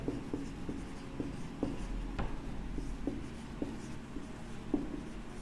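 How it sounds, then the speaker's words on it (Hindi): Marker or chalk writing on a board during a Hindi maths lesson on age problems: steady rhythmic scratching strokes with small taps, quiet and close, with no talk over it. "यहाँ पर हम लिखते हैं मोहित की आयु"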